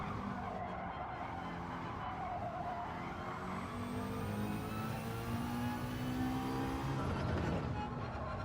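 A race car in Gran Turismo 7 skids through a corner, tires squealing in long wavering tones over a continuous loud engine roar.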